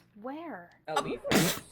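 A single sharp sneeze bursts out near and loud right after a short stretch of speech, with a voice talking just before it.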